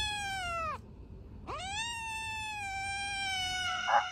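A cat gives two drawn-out, plaintive meows separated by a short pause, close and clear over faint background hiss.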